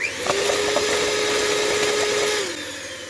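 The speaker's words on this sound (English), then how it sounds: "I'm going to add some of the sugar, and I'm going to whisk again" An electric whisk beats frothy eggs with sugar, a steady close motor whine that runs evenly and then winds down near the end.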